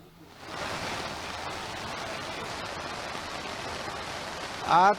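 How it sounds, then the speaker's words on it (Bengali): A dense, steady roar of torrential rain pouring down continuously onto waterlogged streets, with a brief louder burst near the end. "তুমুল বৃষ্টি হচ্ছে কিন্তু এই মুহূর্তে মুষলধারে বৃষ্টি"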